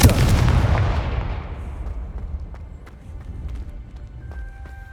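Confringo fire spell blast in Hogwarts Legacy, a loud booming explosion that decays into a rumbling tail with faint scattered crackles afterward, no talk.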